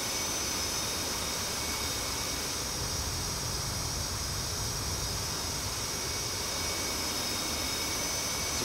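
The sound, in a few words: F/A-18 Hornet jet engine in a flight simulator game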